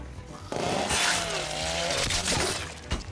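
A chainsaw in The Walking Dead: Saints & Sinners video game revs up loudly and runs for a couple of seconds, buzzing with a rising and falling motor whine before cutting out, heard close and alone.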